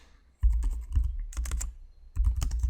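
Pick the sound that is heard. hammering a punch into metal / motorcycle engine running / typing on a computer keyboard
typing on a computer keyboard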